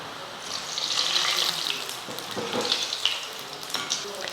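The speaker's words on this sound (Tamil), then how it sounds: "இதே போல் எல்லாத்தையுமே பொரிச்சு எடுத்துருவோம்" Boondi for motichoor laddu frying in hot oil, a continuous close hiss and crackle with some watery bubbling and a few stirring knocks.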